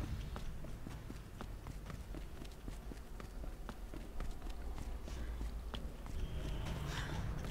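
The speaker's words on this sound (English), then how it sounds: "You heard my footsteps." Rapid running footsteps in the video game Resident Evil 2, a steady stream of close, regular footfalls that go on throughout against a low background hum.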